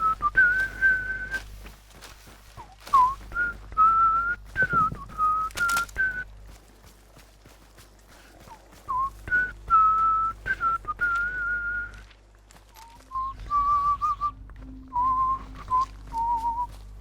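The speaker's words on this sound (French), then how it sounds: "Je siffle des musiques Minecraft." A person whistles Minecraft music, clear solo melodic phrases with short pauses between them, close to the microphone over a faint low background hum.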